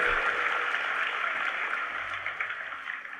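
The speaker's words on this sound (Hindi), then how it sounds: "एक बार ताली बजा के किसानों का ही स्वागत करें हम।" An audience at an agricultural fair in India claps to welcome farmers, a dense, steady wash of applause that gradually fades out.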